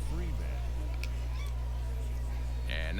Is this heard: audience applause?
no